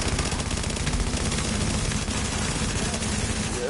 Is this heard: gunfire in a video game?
yes